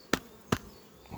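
Honeybees at a hive during swarm treatment give short, loud buzzing bursts close by, two sharp ones followed by a fainter third against a quiet hum.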